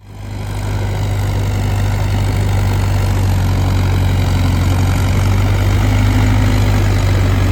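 An old-model Mahindra Shaktimaan 614 2WD tractor idles close by, a loud, steady low diesel rumble that holds even from start to finish.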